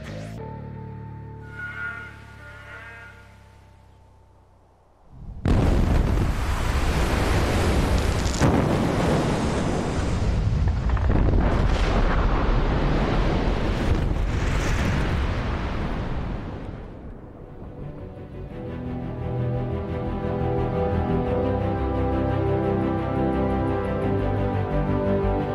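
A blast goes off in a huge open-pit mine: a sudden deep roar bursts in and holds as a loud, sustained rumble for many seconds, slowly easing into a lower, steady rumble.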